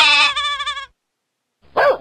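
A short animated sheep bleat from a kids' iPad drawing app, a wavering tone followed by silence and then a brief bark-like yelp.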